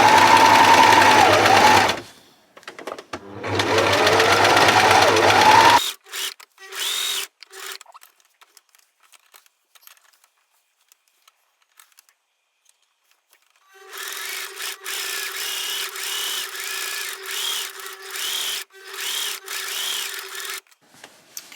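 A sewing machine stitching back and forth across a hole in the inner thigh of jeans, running in loud close bursts, then falling quiet with sparse clicks before a longer steady run resumes.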